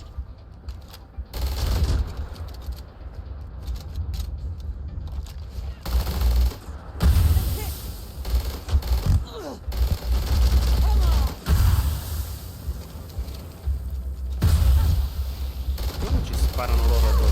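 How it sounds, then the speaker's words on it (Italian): Gunfire crackles through a firefight in the video game Starfield, with repeated shots and bursts over a rumbling game soundtrack and background effects. "Sparano loro addosso."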